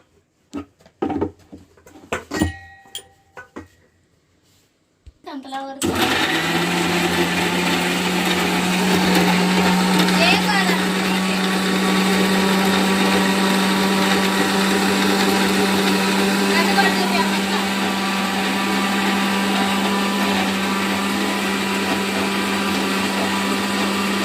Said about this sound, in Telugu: వాటిని మిక్సీ పట్టేసుకుందాం